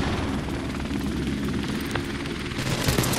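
A helicopter in Call of Duty: Modern Warfare Remastered, heard as a steady loud whirring rotor drone with a dense, constant rumble that fills the whole moment, with no talk over it.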